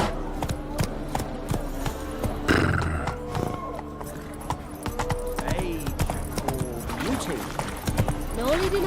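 Hooves of Roach, the horse in The Witcher 3, clip-clop in a steady galloping rhythm throughout, with a whinny partway through, over game music and ambient sound.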